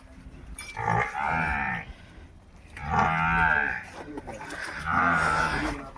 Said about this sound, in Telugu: ఈ మొత్తం గేదెలన్నీ వెళ్తున్నాయండి